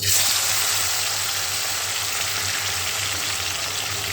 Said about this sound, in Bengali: এবার আমি একেবারে মচ মচে করে ভেজে নেব গরম তেলে